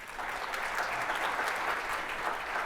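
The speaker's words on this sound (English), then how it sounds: "Let's give them all a round of applause" Steady applause from an audience, a dense continuous patter of clapping that holds at an even level throughout without pause.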